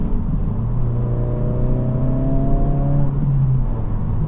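A 2025 Honda Civic Si with a 200-horsepower turbocharged engine drives on a wet road, its steady engine drone rising smoothly in pitch as it accelerates, heard from inside the cabin with road and tire noise beneath.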